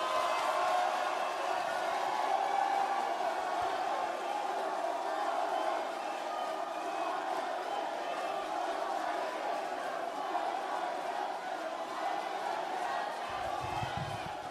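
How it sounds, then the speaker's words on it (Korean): A large crowd at a Democratic Party leadership rally in Daegu cheering and clapping in a big hall, a steady, roaring wash of noise that continues throughout without a break. "뜨거운 박수로 맞이해 주십시오."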